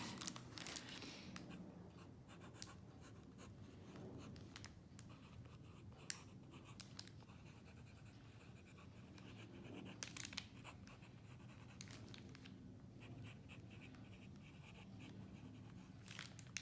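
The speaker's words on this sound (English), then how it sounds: "It doesn't glide as smoothly over the paper as it does with the Hobonichi paper." A pen scratches across Tomoe River paper in a notebook, soft intermittent strokes and faint scraping close up in a quiet room, with no talking.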